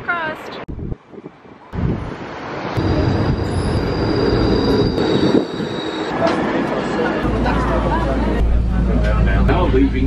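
A tram moves along its rails, rumbling steadily close by with wheel squeal and rattling from the car and faint wind noise. Onboard announcements and voices come and go over the running noise.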